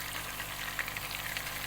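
Ginger, garlic, green chili and coriander paste frying in a pot of oil for chicken pulao, giving a steady, close crackling sizzle with fine spattering pops throughout, no voices.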